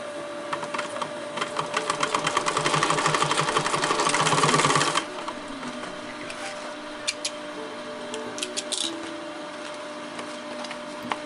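A sewing machine stitches darts into fabric, its rapid needle chatter building for about five seconds before stopping, followed by quieter clicks and fabric handling.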